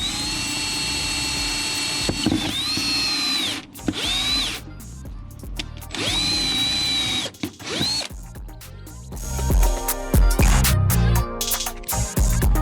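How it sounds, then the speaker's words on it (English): A power drill bores holes through the firewall of a VW car with a 2276 turbo engine, fitting a bracket: two long whining runs rise and fall close by, separated by pauses, then clattering handling noises. "So I'm just busy drilling these holes to install the bracket."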